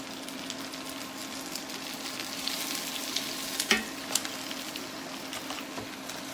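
Baby spinach hisses and sizzles in a hot pan, a steady, fairly quiet frying crackle with a couple of brief clicks partway through.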